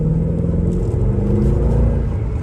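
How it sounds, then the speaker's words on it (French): Naturally aspirated 6-litre V8 car engine runs with a deep, loud continuous rumble, close and steady with slight swells in revving, no voices over it. "Le son, le V8 Atmo, le 6 litres de V8 Atmo, c'est juste incroyable."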